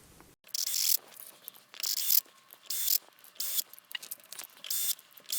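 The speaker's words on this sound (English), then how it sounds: "All right, let's attach our brand new trem system." A new guitar tremolo system is fastened on with screws, heard as repeated bursts of close, rapid ratcheting clicks from a screwdriver, each short run separated by brief quiet gaps, with no talking.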